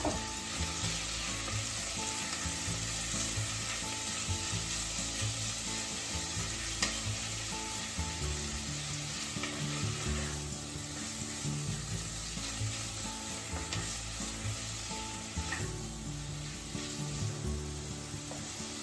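Pork stir frying in hot vegetable oil in a pot for kimchi soup, a steady dense sizzle that continues without pause at close range, with faint scraping of stirring and no talking.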